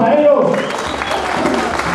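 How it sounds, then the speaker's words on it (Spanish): A crowd breaks into applause for gaiteros, a steady wash of clapping that rises after a voice and carries on evenly. "un aplauso para ellos"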